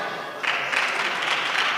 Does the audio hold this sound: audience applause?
yes